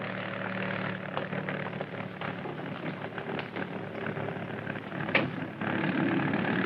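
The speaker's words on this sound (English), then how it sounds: "Yeah, Medford has just taken off." An airplane engine drones steadily after takeoff, a continuous broadband roar of moderate, even loudness with no voices.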